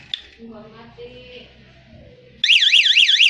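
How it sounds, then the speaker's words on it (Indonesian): A Protech smart key motorcycle alarm suddenly blares partway through, a loud warbling electronic siren tone rising and falling rapidly, after a quieter stretch with someone talking. "Jadi kalau kita kunci kontak terus sensornya nggak disentuh dalam 5 detik, alarmnya atau klaksonnya akan bunyi."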